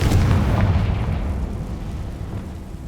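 A Confringo spell detonates in Hogwarts Legacy on PS5: one loud, close blast at the start, then a rumbling boom that slowly fades over about three seconds with no one speaking.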